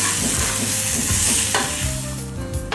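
Salt, red chilli, turmeric, black pepper and dried coriander stirred and fried on a griddle for a cheese omelette, a loud steady sizzle with spatula scrapes running throughout, close and alone.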